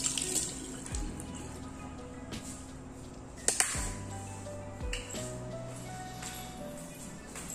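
Water runs from a tap at a quiet, steady hiss while hands wash, with a few light clinks and knocks against the sink.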